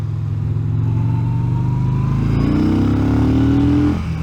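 A Yamaha XVS 950 Bolt demo motorcycle engine pulls hard under acceleration, loud and close, its drone climbing steadily in pitch for several seconds before dropping off abruptly near the end.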